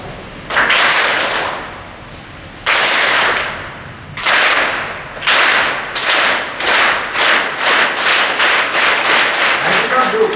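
An audience in a hall claps in unison on cue, first in a few widely spaced single collective claps, then quickening into a steady chugging rhythm that imitates a train starting up; loud and close, with no talk over it.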